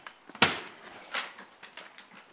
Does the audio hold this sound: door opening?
yes